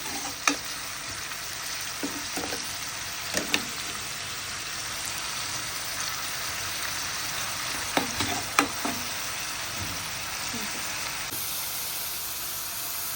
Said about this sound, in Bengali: রসুন দিয়ে একটু ভাজা ভাজা করিয়া লাল করিয়া পেঁয়াজ দেওয়া লাগে